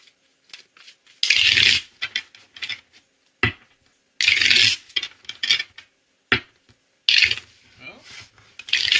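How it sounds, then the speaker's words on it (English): Tarot and oracle card decks shuffled by hand, giving repeated bursts of papery riffling and rasping in several distinct rounds separated by short pauses, close to the microphone with no talking. "I've pre-shuffled, cut the decks. Okay, so we're just gonna do it one more time."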